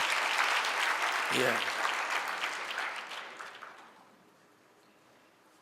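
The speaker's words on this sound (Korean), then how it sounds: "한 박수로 한번 격려하겠습니다." A church congregation at a Sunday service applauds in encouragement, a fairly loud burst of many hands clapping that fades away over a few seconds, with a brief spoken word heard near the start.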